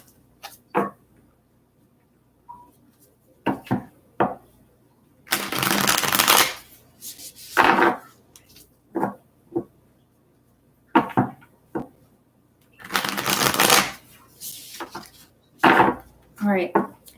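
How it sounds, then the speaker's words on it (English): Tarot cards are shuffled by hand in repeated bursts: sharp crisp riffles and short taps alternating with two longer, loud riffle runs, close and clear with quiet pauses between and no talking. "Just a couple more shuffles here."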